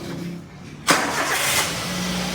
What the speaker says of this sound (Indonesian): Dan ini suara mesinnya halus